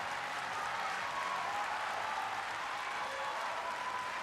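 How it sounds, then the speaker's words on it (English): A gymnastics crowd at a World Cup event applauds in a continuous, fairly distant wash of clapping and murmur that holds steady throughout. "Crowd, a mixture of excited and nervous."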